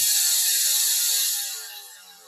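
A BMX cassette hub ratchet buzzes in a fast, continuous metallic clicking as the wheel spins freely, loud and close, then slowing and fading over the last second.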